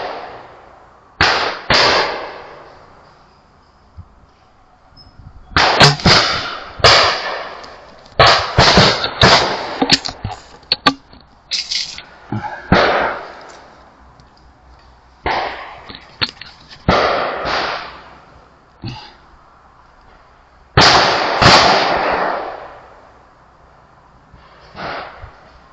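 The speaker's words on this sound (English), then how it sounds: "I'm shooting at 35 meters, and we'll see what this little gun can do in this scope." Weihrauch HW57 spring air rifle firing at a 35 m target, a series of sharp, close cracks spread irregularly across the span with quiet pauses between shots.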